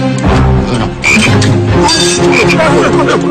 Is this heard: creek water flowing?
no